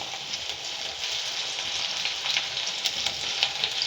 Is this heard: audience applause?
no